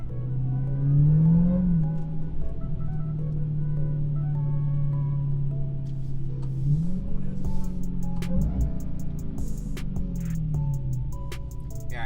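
A 2020 Dodge Charger Hellcat Widebody engine rumbling and revving in winter, a deep steady drone that rises in a few sharp surges, loud and close with no voices.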